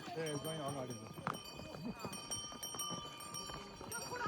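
A horse walks along a mountain trail toward Muktinath, its hooves clip-clopping at a slow, steady pace close by while people talk over it.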